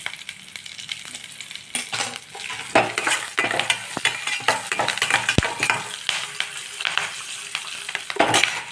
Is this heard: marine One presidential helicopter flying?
no